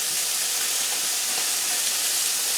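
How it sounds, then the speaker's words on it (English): Chopped peppers and onions sizzle with meat in a hot pan, a steady, loud hiss and crackle of sautéing with faint stirring, no talk. "I'm just going to saute this around for a bit, get a little color on it"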